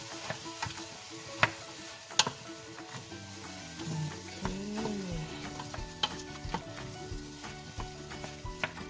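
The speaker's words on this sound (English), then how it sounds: "Let it simmer for a while together with the suka." Chopped ox heart simmers with vinegar in a pan, giving a steady bubbling sizzle with scattered sharp ticks and clicks. A spoon stirs it now and then, scraping against the pan close by.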